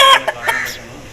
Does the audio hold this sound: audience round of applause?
no